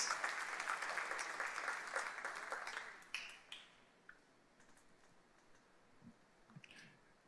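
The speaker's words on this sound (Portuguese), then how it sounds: "Quem recebe essa palavra, aplauda o nome do Senhor Jesus." Church congregation clapping during a prayer service, a loud burst of many hands that fades after about three seconds into scattered claps and quiet room sound.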